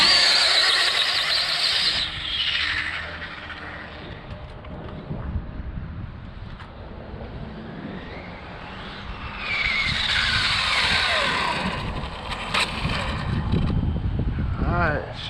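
Small RC drag racing car with a new motor makes a test hit down a street eliminator strip, a loud rising whine and tire squeal surging in two bursts with a quieter stretch between, voices talking faintly underneath.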